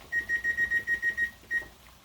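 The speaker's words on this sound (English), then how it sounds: "going to just set a timer for 10 minutes here" A kitchen timer beeps in a quick run of eight short, evenly spaced electronic tones, pauses briefly, then gives one more beep; fairly quiet and close, with no talking.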